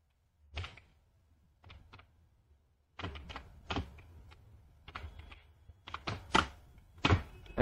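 Keys tapped on a computer keyboard while entering payroll data into an Excel sheet, scattered clicks at first, then quicker clustered keystrokes, close and fairly quiet with no talk.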